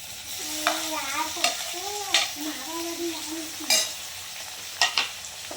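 Curry leaves and chopped tomatoes drop into hot tempering oil for Gujarati dal dhokli, a steady close sizzle broken by several sharp spoon scrapes and clinks against the pan.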